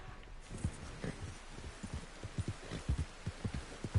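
A horse's hooves clip-clop in the video game Red Dead Redemption 2, with a rhythmic run of dull, close thuds that grows denser and heavier toward the end.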